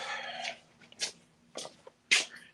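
A dog moves about indoors near an open door in a house under drywall renovation, giving a few short, sharp sounds spaced apart, each brief burst fairly close over a low steady hum.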